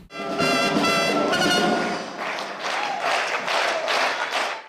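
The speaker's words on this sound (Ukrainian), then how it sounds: "А так оваціями зустрічають ювілярку її шанувальники" At a 50th-anniversary celebration, an audience greets the honoree with applause, loud and sustained, with a tonal musical sound over the first couple of seconds before steady clapping carries on.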